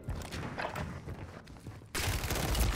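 Rapid gunfire crackles in a video game match, a dense burst of shots that grows louder and more intense in the final second.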